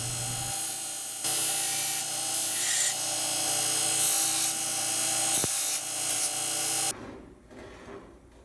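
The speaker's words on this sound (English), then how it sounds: "And then back to the grinder here." Grinder rounding small metal flags for a homemade camera holder, a steady high-pitched whine with a grinding hiss that runs loud and constant for several seconds, then cuts off abruptly, leaving faint background noise.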